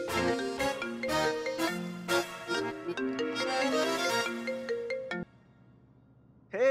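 A phone's ringtone plays as a bright, steady melodic jingle for about five seconds, then stops abruptly; after a short quiet gap a new sound starts at the very end.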